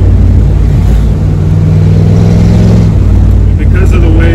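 A 1982 Ford F150 pickup engine runs with a steady low rumble, close and loud throughout, with no talk over it.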